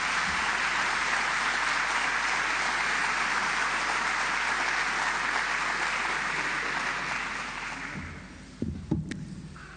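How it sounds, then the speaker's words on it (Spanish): Audience applause welcoming a guest speaker at an evening church service, a sustained wash of clapping that tapers off toward the end before a few faint bumps. "le damos una bienvenida con un fuerte aplauso"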